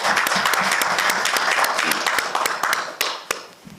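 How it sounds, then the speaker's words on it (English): Attendees at a community board monthly meeting give a round of applause. Sharp individual claps are clearly heard within the steady clapping, which thins toward the end into a few scattered claps. "I would like folks to join me in a round of applause"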